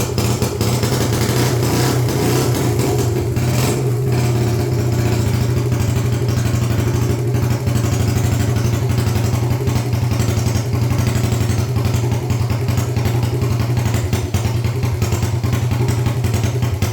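A pitbike engine with a worn carburettor idles steadily and loudly up close, a continuous low, throbbing rumble with a slightly rough, clattery edge that holds without breaks throughout.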